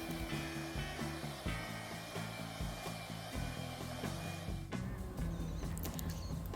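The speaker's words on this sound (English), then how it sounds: "Whisk it till it's slightly fluffy." Electric hand mixer whisking butter with vanilla essence until fluffy, a steady close whirring drone with slight changes in pitch as the beaters work the mixture.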